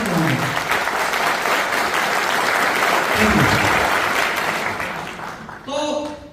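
A seated audience at a health awareness and agriculture product event breaks into loud, sustained applause that fills the room, fading near the end as a voice cuts in.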